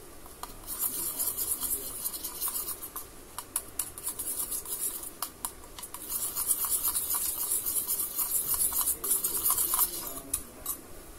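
Powder being slowly stirred into homemade fake blood, a soft continuous scraping and rubbing of a utensil in a container with faint clinks, close and quiet, no talking.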